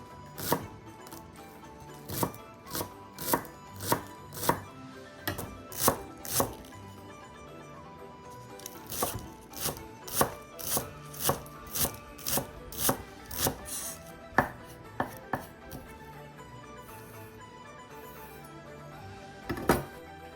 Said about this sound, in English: Next, chop 50 grams of chives.